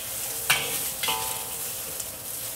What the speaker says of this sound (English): So these have been searing, and I'm stir frying for another little bit